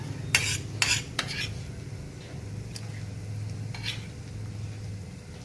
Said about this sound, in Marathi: हे बघा आता मी त्याच्यात कांदा टाकून घेते पण कांदा आहे ना सारखा हलवत राहायचा